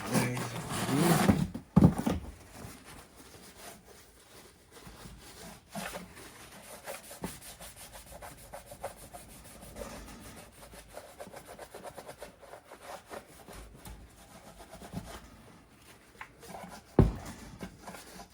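A rag rubs repeatedly over the intake surface of a Chevy 350 V8 to clean off grease, making a quiet, uneven scrubbing and wiping sound with occasional louder knocks and handling noises.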